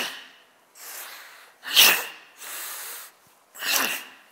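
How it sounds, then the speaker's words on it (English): Powerful yogic breathing during a traditional yoga session: five forceful, close breaths through the nose alternate between sharp bursts and softer, longer airy rushes, with short pauses between them and no talk. "breathing, very powerful breathing."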